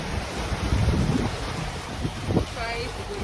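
Blustery wind buffets the microphone over choppy coastal water from a boat, with waves sloshing underneath and brief voices in the background.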